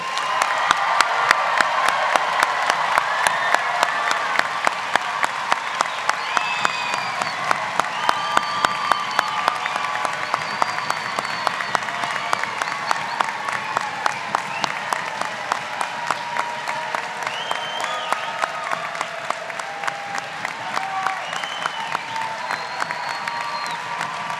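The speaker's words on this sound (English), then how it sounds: "Please join me in one last round of applause for our graduating CWU graduate students of 2024." Sustained applause from a large commencement crowd honoring graduating graduate students at a university hooding ceremony, steady dense clapping with scattered cheers and whoops throughout, loud and continuous for the whole stretch.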